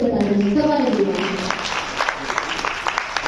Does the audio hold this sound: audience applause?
yes